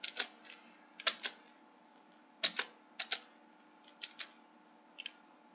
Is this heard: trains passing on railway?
no